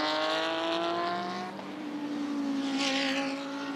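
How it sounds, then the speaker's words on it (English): A race car at the Bathurst 12 Hour endurance race roars past with a loud, steady engine note that dips and swells as it goes by, then another surge of engine noise follows close behind. "Through comes the Grove car."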